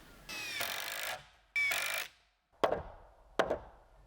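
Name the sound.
assembling wood wall frame with nails and screws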